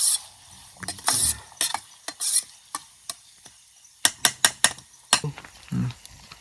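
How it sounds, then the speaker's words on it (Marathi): Onion frying with salt in a pan over a camp cooking setup in a Konkan jungle, with brief sizzling bursts and repeated stirring scrapes and clinks, close and fairly loud, no talk. "कांदा आहे तो मस्तपैकी लाल लाल तयार होतो"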